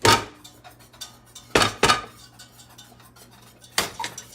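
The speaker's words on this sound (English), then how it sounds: "I need to get this spinach chopped up" A knife chops spinach on a cutting board, a few sharp, separate clacks spaced irregularly, close and fairly loud against a quiet kitchen background.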